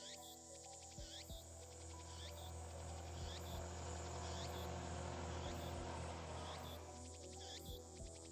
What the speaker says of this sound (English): I can hear the sound of cicadas from somewhere.